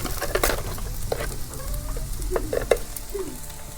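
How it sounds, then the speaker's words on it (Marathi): Wild leafy greens tossed into a pan of frying onions, giving a steady close sizzle with stirring scrapes and a few sharp clinks over it. "तर कांदा पण परतून झालाय तर आता भाजी टाकून घेते आणि चवीपुरतं मीठ टाकते"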